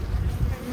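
Honey bees drone in a close, dense buzz while a colony is split into a new hive, a low steady hum that swells briefly near the middle with no voices.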